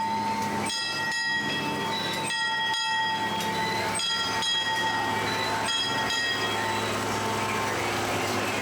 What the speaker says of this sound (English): Train's coming around.